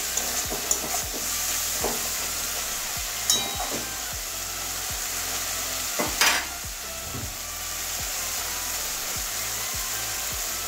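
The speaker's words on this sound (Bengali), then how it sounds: "এবারে ভালো করে জল দিয়ে মশলাটা কষিয়ে নেব, তখন আমার টমেটোটাও নরম হয়ে যাবে।" Spice masala with tomato stir-fried in a pan with water added, a steady close sizzle broken by repeated scraping stirs and clinks of a spoon against the pan, with no voices.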